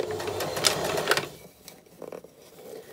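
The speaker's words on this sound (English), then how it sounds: "You may find that you need to pull the fabric taut in front of the machine as you work" A sewing machine stitches fabric with shirring elastic in a close, steady mechanical whir that briefly pauses, then starts again in short bursts.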